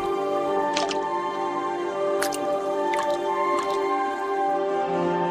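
Water drops falling into water, with several sharp, bright drips and splashes at irregular intervals over a steady tonal background.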